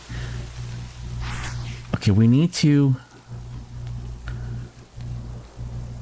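Steady rain falls in a cloudy video game landscape with poor visibility, a constant hiss under a voice talking throughout.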